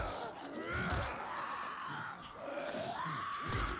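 Enemies in Dying Light 2 let out strained, wavering screams and groans, rising and falling over a few seconds against a noisy game background.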